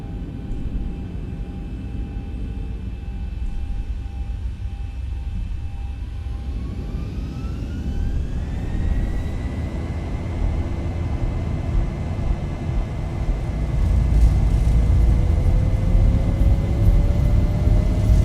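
Engines of a Boeing 737 (Zibo) spooling up for the takeoff roll on runway 27 right at Atlanta in X-Plane 11, a rising whine with climbing tones over a deep roar that grows louder toward the end.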